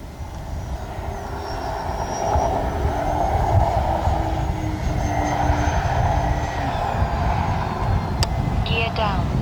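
The twin engines of an E-flite Beechcraft D-18 RC model airplane drone steadily as it flies past, a sustained loud buzz that swells and holds near the listener, with wind noise.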